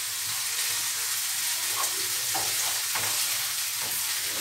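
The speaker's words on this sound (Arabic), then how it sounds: "هاهي الثومة والفلافل دابا كيتشحرو" Garlic and peppers frying in a pan, a continuous hissing sizzle with a few soft stirring knocks scattered through, close and even, with no talking.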